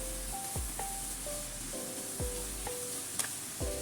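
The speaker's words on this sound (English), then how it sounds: "Then stir fry, stir fry." Chinese radish and dried bean curd stir frying in a pan with oyster and soy sauce, a steady low sizzle broken by a few sharp spatula scrapes and clinks against the pan.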